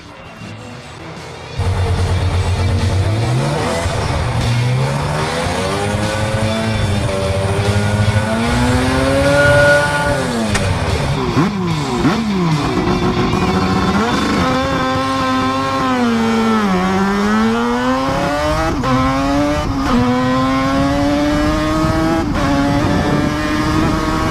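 A Norton F1 rotary-engined motorcycle howls loudly and close by, its pitch climbing and falling through repeated throttle swells and gear changes after a quieter opening, with no talk over it.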